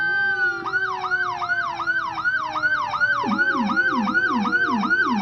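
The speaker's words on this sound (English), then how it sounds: "You can hear the typical siren" A loud Knoxville Fire Department fire truck siren wails in a fast, repeating yelp, with a deeper second siren joining partway through over a low engine rumble.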